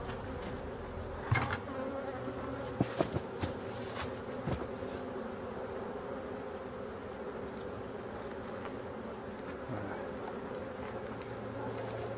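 Black honeybees hum at a hive being closed for winter, a steady close buzz with a few faint knocks and handling sounds over it.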